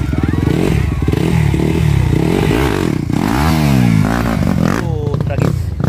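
A motorcycle engine labours loudly over a rough road, revving and rising and falling in pitch with clattering thumps from the bumpy surface, while people shout and talk over it.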